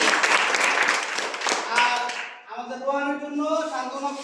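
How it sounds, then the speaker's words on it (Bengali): At a rural bottle-lifting game, the audience gives a short burst of applause for about two seconds. Then a voice talks over the dying claps. "সবাই আরেকবার হাততালি"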